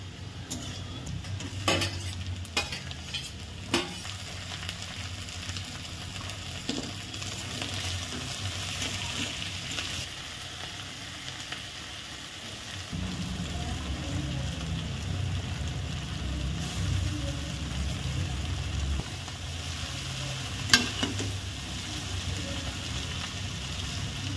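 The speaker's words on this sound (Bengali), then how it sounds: "ওই একটু বাঁধাকপি আর আলু খালি দিয়ে করছি" Cabbage and potato curry fries in a pan, giving a soft sizzle punctuated by scraping stirs and metallic clinks of a spoon. The frying grows louder and steadier partway through.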